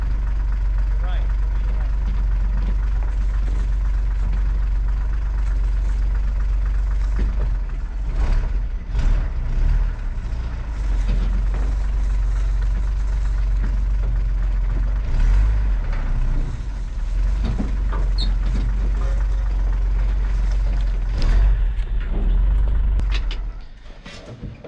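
An old pickup truck rumbles steadily off road through brush on a farm, its engine loud and close for the whole stretch, with people talking over it and the noise easing off at the end.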